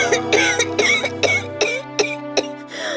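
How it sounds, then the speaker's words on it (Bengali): A woman in a Bengali cartoon coughs repeatedly and hoarsely, with about six to eight close, loud bursts coming in an uneven rhythm over a low steady background tone. "কাশিটা আবার বেড়েছে?"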